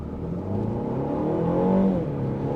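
A 2025 BMW X1 xDrive 28i accelerates hard, its engine note climbing steadily in pitch as it revs, then easing back slightly, close and continuous with no talk.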